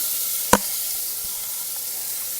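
Chopped onion sizzling as it stir-fries in a pot, a steady bright hiss with one sharp clack of a spoon against the metal early on.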